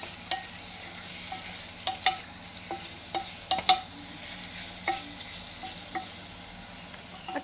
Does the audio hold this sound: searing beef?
yes